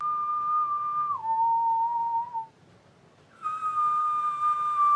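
A single person whistles a few long, eerie sustained tones, sliding down and back up, with a brief silent gap in the middle.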